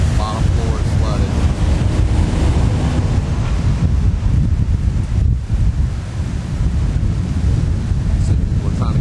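Hurricane storm surge waves crash on a Gulf Shores, Alabama beach where water has breached the dune, under loud, constant wind buffeting the microphone, with a dense roar and no pause throughout.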